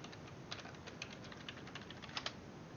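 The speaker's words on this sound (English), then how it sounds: "it's weird typing this in for the first time" Rapid keystrokes on a computer keyboard while logging into a server over a remote desktop connection, a steady run of close, light clicks with a few sharper taps near the end, no voices.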